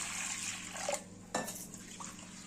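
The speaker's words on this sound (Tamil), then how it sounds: "சுத்தமாக கழுவி எடுத்துடுங்க ரெண்டு தடவை கழுவி எடுத்துகிட்டு" Soaked lentils are washed in water inside a pressure cooker, with sloshing water, a scrape and clank of metal, and small splashes, fairly close and quiet.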